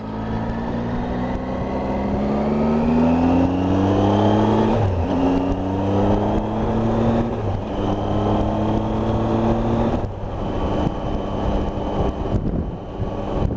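A 2018 Triumph Tiger 800 XRT motorcycle riding over bumpy, salt-whitened winter roads, its engine droning loud and steady with rising and falling pitch through gear changes, wind noise underneath.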